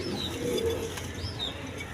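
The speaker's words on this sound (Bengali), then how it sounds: "এখানে এক পেয়ার কবুতর আছে" Pigeons in a crowded breeding loft full of birds sitting on eggs with their young give soft, low cooing, faint and continuous against a quiet background hum.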